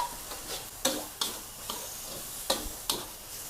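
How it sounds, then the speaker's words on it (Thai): Fermented pork with egg, glass noodles and vegetables stir-fried in a pan, with a soft sizzle beneath a handful of sharp, separate scraping clinks from the spatula. "ผัดพอผักสลดนะคะ"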